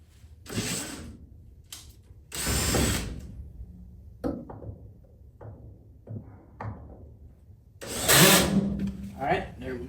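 A ratchet wrench tightens a bolt during a carport-to-man-cave conversion, with short bursts of close clicking separated by pauses, a few isolated knocks and other sounds between them, and a voice speaking briefly.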